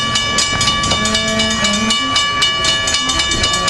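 Amtrak train on the Surf Line approaching, its horn sounding in sustained tonal blasts over steady rumbling rail noise, loud and close throughout.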